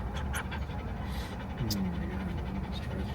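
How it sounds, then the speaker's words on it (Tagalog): A dog pants in quick, rhythmic breaths close by, over steady background noise from a busy Starbucks. "meron ding aso dito."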